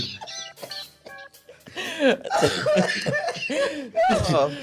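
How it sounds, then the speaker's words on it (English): A person coughs several times in harsh, rasping bursts close to the microphone, with a few vocal sounds mixed in. "not with that cough. Not you coughing this time."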